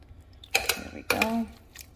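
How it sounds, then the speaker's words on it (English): Kitchen shears cutting through tender slow-cooker beef pot roast in a crock pot, heard as two short, crisp snips close up with quiet background in between. "I'm just taking my kitchen shears and chopping it up or cutting it up"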